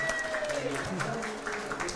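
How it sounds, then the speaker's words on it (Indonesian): Applause from the audience at an ethnoastronomy talk event, a short burst of clapping heard mixed with a speaker's voice over a microphone. "Boleh minta tepuk tangannya semua."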